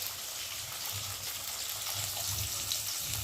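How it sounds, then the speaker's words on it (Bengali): Water drains from a pot of pressure-cooked banana flower and chickpeas, a steady close rush and gush that holds evenly throughout with a faint low rumble beneath. "এখন আমি জলটাকে ঝরতে দেবো"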